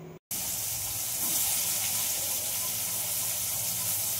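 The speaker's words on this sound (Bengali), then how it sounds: "এবার করলাগুলো ভালো করে জল চিপে চিপে বের করে নিচ্ছি" Squeezed bitter gourd (karela) pieces fry in oil with a steady, close sizzling hiss after a brief silent gap at the start, no voices present.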